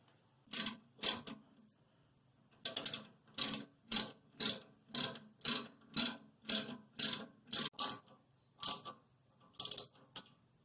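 A ratcheting wrench clicks in quick bursts while a toilet seat mounting nut is tightened until it snaps off, with a dozen or so sharp, close mechanical clicks separated by short pauses.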